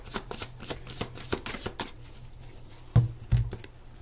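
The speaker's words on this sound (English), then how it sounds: "Let's get some more cards." Tarot cards shuffled close up, a quick flurry of papery riffles and taps that thins out, followed by two heavier thumps as the deck is squared or set down, with no talking.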